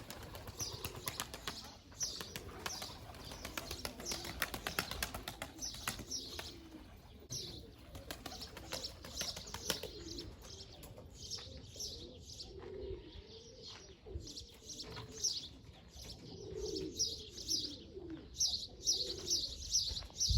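Pigeons, including tumbler pigeons, coo in soft repeated bursts while wings flap and flutter nearby, with occasional chirps, continuing steadily throughout.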